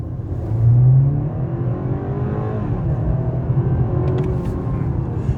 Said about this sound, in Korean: 자, 한번 밟아보겠습니다.